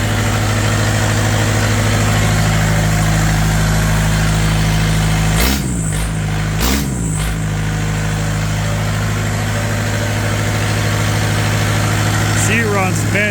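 A diesel engine idles steadily and loudly after a cold start, its low drone continuous throughout, broken by two brief louder bursts near the middle and a faint voice toward the end.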